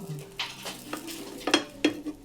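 Pancake batter frying in a pan at home, soft sizzling under scraping and stirring strokes, with a few sharper clinks of a utensil against the pan near the end.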